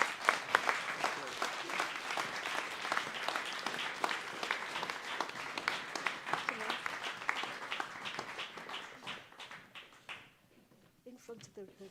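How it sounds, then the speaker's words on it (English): A large audience at a regional volunteer awards ceremony gives sustained, dense applause for the nominees for about ten seconds before it tapers off, with a voice speaking briefly at the end. "can you give a massive round of applause to all three of them?"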